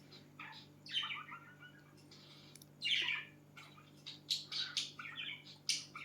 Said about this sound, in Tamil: நம்ம வீட்டில் குருவி இருக்குது, அதோட சவுண்டு தான் அது.